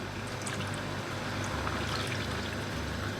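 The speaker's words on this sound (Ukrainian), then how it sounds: "І тепер дивіться, додаю воду." Water pours into a pot of cabbage being cooked for a ragout, a close, continuous splashing gush with a low bubbling rumble beneath it.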